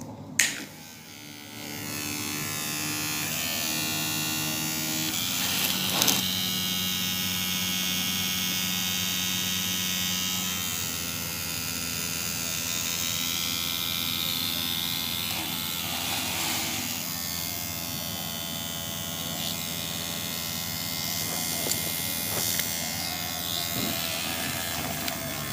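A homemade AC generator built from a synchronous motor runs with a steady electric buzzing hum, carrying a dense stack of harmonic tones that holds constant and fairly loud for the whole stretch.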